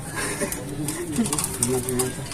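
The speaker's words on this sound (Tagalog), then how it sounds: "Ang laking ibon." A large breed of pigeon or dove cooing, a few soft low rounded calls close by, with people talking over and around them.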